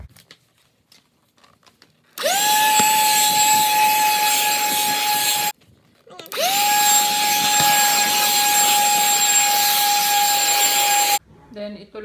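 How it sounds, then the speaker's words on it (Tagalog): A household vacuum cleaner runs steadily in a home, loud and close, with a whining motor tone that cuts off briefly midway before starting up again, with no talk over it. "Nag-vacuum ako."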